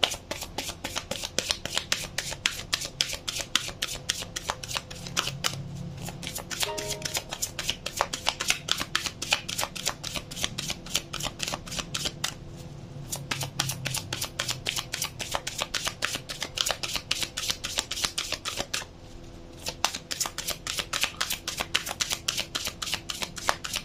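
Tarot cards are shuffled over and over, a rapid, continuous stream of close, crisp riffling that pauses briefly three times.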